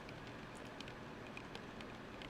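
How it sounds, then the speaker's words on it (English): Steady rain patters on the roof of a sailboat, picked up by a microphone mounted up top, forming a continuous soft hiss with scattered sharper drop ticks throughout. "You guys can hear the rain?"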